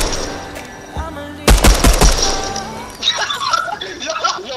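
Rapid gunfire in the video game Fortnite, a loud burst of several close shots in quick succession followed by scattered game sounds, with players talking over it.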